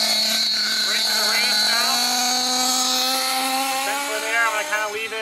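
Alpha model engine running during break-in at half throttle, a loud, high-pitched buzzing whine held steady and close, rising slightly in pitch toward the end with small wavers as the throttle changes.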